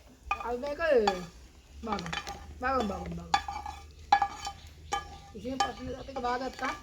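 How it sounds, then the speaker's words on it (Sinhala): Sausages fry in a pan for cheese noodle kottu, a soft sizzle with occasional stirring clinks running beneath a person talking throughout. "අපි ඒ පෙරේනට මේ සොසයිස් ටික බාගමු"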